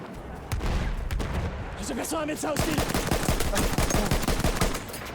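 Rapid gunfire from an M1903 Experimental rifle in Battlefield 1, a fast string of close, loud shots with a brief lull near the start, while someone talks over it.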